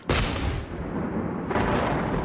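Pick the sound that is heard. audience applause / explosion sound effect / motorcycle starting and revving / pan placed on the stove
explosion sound effect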